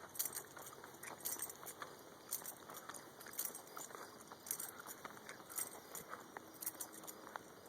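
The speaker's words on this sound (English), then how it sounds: "Hear my keys jingling." A bunch of keys jingles in short bright bursts, close and fairly quiet, as someone walks outdoors back toward a parked car, with faint footsteps and no talking.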